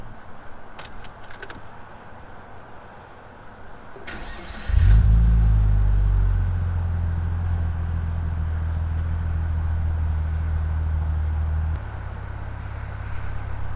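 Keys jingle, then a Nissan Skyline R34 engine cranks and fires up with a sharp rev before settling into a loud, steady idle that drops slightly in pitch.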